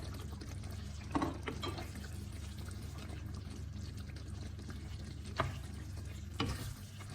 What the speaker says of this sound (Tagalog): Haluin lang natin itong maigi.